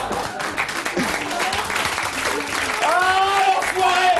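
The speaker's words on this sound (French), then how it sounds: "on l'applaudit très fort" A studio audience on a French television show claps loudly for the guest of the week, with voices talking and calling out over the steady applause.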